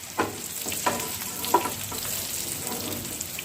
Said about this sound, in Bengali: আমি মিডিয়াম টু লো ফ্লেমে ভাজা করে নিচ্ছি 2 মিনিট করে।